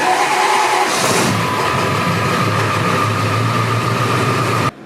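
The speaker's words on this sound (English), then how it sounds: "Truck should start." A Ford 7.3 diesel truck engine cranks and catches, then runs steadily with a loud, continuous low rumble and clatter that stays close and even before cutting off abruptly at the end.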